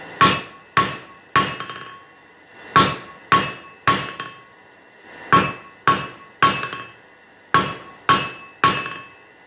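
A hammer strikes hot metal leaves on an anvil in a blacksmith forge, delivering loud, close, ringing blows in quick groups of two or three with short pauses between.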